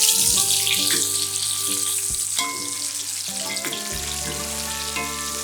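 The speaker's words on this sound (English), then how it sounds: "Fry the okra for about 5 minutes per batch until golden brown and crispy." Okra fries in hot oil, a loud continuous bright sizzle with bubbling and a few clinks, steady throughout with no voices and a low hum beneath.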